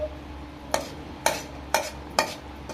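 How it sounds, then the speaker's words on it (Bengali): A metal spatula stirs soft rice flour dough in a wok, giving four distinct scraping strokes at a steady, even rhythm over a low background hum, with no talking. "এইভাবে খুন্তি দিয়ে আমি নেড়ে নিচ্ছি।"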